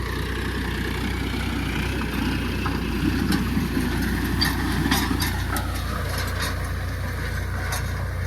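A tractor engine idles steadily at 1300 rpm with a continuous low rumble and mid-range drone, close and even throughout, with no talk over it.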